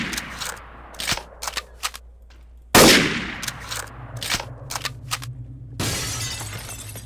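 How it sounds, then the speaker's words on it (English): Video game gunfire in Garry's Mod Trouble in Terrorist Town: sharp, scattered shots crack out, with a loud shattering burst near three seconds and another heavy burst near six seconds against a low hum. "Who's shooting at me?"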